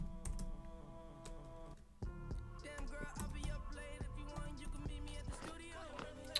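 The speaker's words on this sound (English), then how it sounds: "Why am I typing Quant like a noob?" Typing on a computer keyboard during a live cryptocurrency stream: rapid, irregular key clicks close to the microphone, a short burst, a brief pause, then a denser run of taps over a quiet background.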